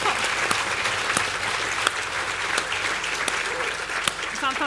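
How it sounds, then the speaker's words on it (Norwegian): Applause from an audience during a Norwegian panel talk, steady clapping throughout with sharp louder claps standing out, some voices mixed in underneath. "Er det en applaus for det, var det?"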